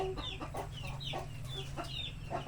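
Chickens cluck softly at feeding time on a small farm, a faint cluster of short, repeated clucks and murmurs close by over a low background hum.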